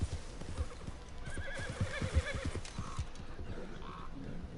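Horse named Delta in a PS4 video game, steady clip-clop of hooves on the ground with a clear whinny partway through, close and moderately loud.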